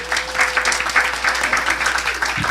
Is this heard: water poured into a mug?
no